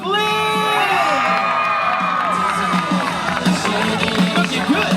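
A screaming, cheering crowd at the Disneyland 60th anniversary Teen Beach Party show greets Ross Lynch, with high shrieks and whoops swelling loudly at the start before settling into a steady roar of cheers and some clapping.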